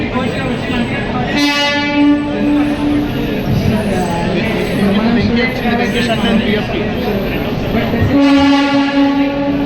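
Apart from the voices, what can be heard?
train arriving with horn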